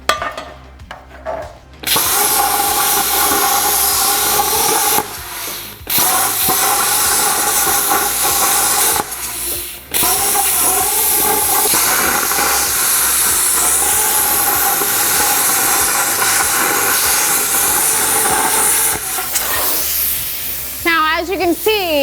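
A Hypertherm Powermax33 XP plasma cutter slicing through thick metal gives a loud, steady hissing roar that runs almost continuously, broken by a few short pauses, with a voice talking faintly at times.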